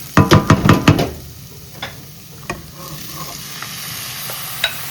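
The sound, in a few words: squid curry being stirred while frying in a pan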